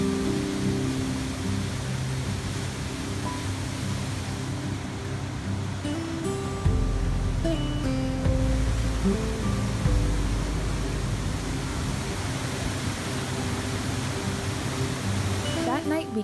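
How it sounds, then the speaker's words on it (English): A river and waterfalls in the deep limestone Johnston Canyon make a constant, dense rushing roar that fills the whole stretch without pause, fairly loud and even throughout. "and along the vibrant river and waterfalls."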